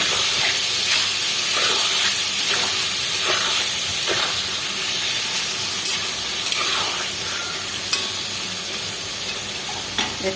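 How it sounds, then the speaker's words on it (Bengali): A little water hits frying spices in a pan while cooking potato and brinjal, giving a loud steady steaming sizzle and hiss with scattered stirring clinks, no talk. "সামান্য জল দিয়ে দিচ্ছি মশলাগুলো না হলে লেগে যাবে"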